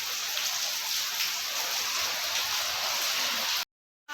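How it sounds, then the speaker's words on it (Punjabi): Steady rain falls with a dense, even hiss throughout, then cuts off abruptly near the end. "ਕਣੀਆਂ ਤਾਂ ਵਧੀਆ ਆਉਣ ਲੱਗੇ ਪਰ ਹਜੇ ਵੀ ਉਹ ਨਵੀਂ ਆਇਆ ਨਹੀਂਗਾ"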